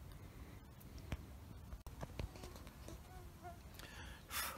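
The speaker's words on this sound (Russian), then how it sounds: "Комары достали." Mosquitoes and other small insects buzz close by at a lakeside while fishing, a steady faint whine over outdoor background noise with a few brief knocks.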